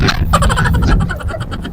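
Loud roaring speedboat engine close by in Boracay, droning steadily with a rough, buzzing rumble throughout.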